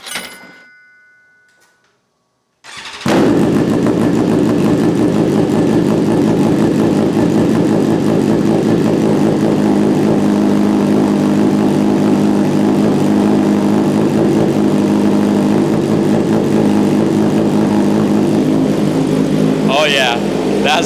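A BMW S1000RR fitted with an aftermarket exhaust idles loudly and steadily up close after a near-silent start. The engine fires abruptly and holds an even, throbbing idle for the rest of the clip.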